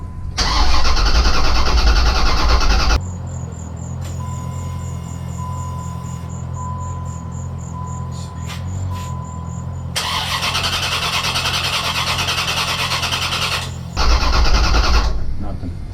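LT1 engine in a fourth-generation Firebird Trans Am cranking repeatedly without catching, loud grinding starter bursts separated by pauses, close up, with a faint whine in between.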